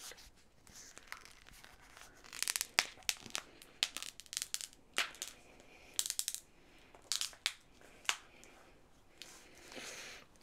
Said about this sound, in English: I really like this like crinkle sound